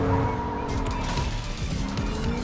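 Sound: car driving in a video game

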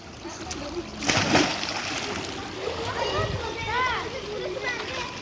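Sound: splashing water as children jump into a pool

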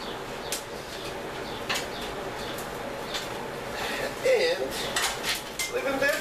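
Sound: charred poblano peppers put into a Dutch oven

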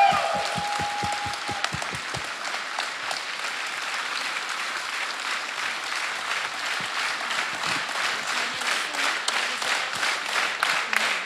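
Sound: audience applause

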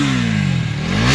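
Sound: KTM Duke 250 motorcycle engine revving, exhaust note

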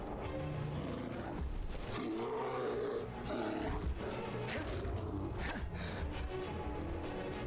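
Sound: bear roaring in the Skyrim video game

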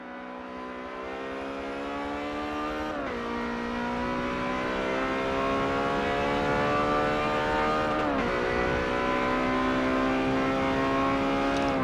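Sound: Ferrari 355 engine on a hot lap in video game Forza Motorsport 7

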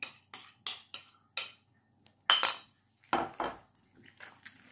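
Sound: mixing starch and cornflour into a paste in a bowl

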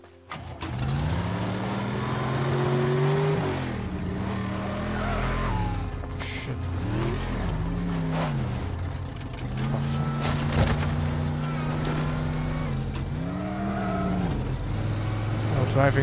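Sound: car driving in a video game

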